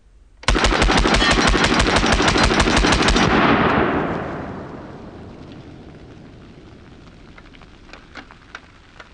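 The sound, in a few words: Reising M55 submachine gun firing at targets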